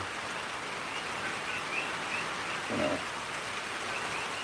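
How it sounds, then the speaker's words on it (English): Heavy tropical rain pours down in Mount View, Hawaii, during a deluge of about three inches an hour, a steady dense hiss filling the whole stretch with no gaps. "The rain is still, as you can hear, that's about 3 inches an hour coming down."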